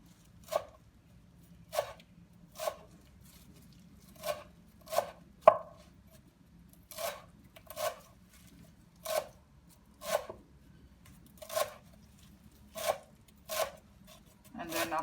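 A kitchen knife chops fresh parsley on a cutting board for German potato salad, with about a dozen crisp, evenly spaced chops close up over a faint background hum.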